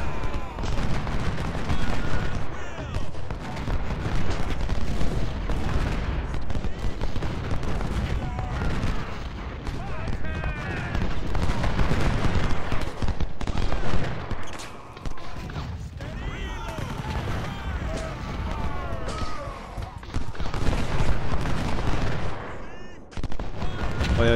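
Dense, continuous cannon and musket fire from a Union battle at Richmond in Ultimate General: Civil War, sustained roar with sharp reports throughout, someone talking over it.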